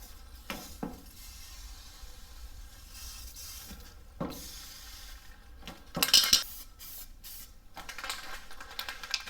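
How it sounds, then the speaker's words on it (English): Paint or filler being mixed with a tool while patching rust on an 88-98 K1500 truck, heard as scattered scraping and tapping strokes with a brief clattering burst in the middle. The sounds stay fairly faint and uneven. "More mixing."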